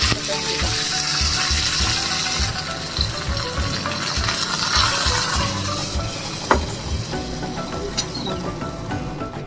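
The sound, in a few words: tempering fennel seeds and curry leaves in hot oil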